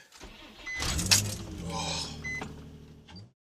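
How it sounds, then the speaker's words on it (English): A car engine cranks and catches after sitting unused for a long time, a brief close starter whir rising into a rough idle that cuts off abruptly. "I haven't started this car in so long."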